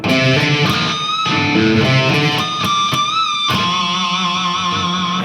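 Distorted electric guitar plays a sustained solo phrase, with squealing pinch harmonics, bends and wide vibrato on held notes, loud and continuous without any talk.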